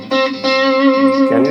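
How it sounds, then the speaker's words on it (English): An electric guitar played through the distortion effect of an M-Vave MK-300 multi-effects unit, sustained gritty chords with a thick buzzing tone and some reverb, loud and alone without speech. "now I dedicated this button for a distortion"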